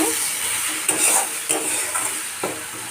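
Masala for a village-style fish ambul curry sizzles steadily in a pan while a spoon stirs it, with several distinct scraping strokes against the metal over the continuous frying hiss.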